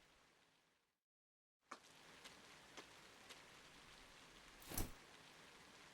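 Steady rain in the Trails of Cold Steel video game, a constant soft hiss after a brief silent gap, with a few louder drop-like ticks and one stronger splash partway through.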